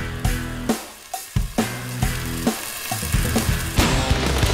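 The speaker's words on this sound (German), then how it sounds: "Ich werde nämlich meine Kartoffeln frittieren." Potatoes frying in a pan of hot oil, bubbling too hard, with a steady close sizzle and crackle, irregular pops and bursts, and a few clatters on top, with no talking.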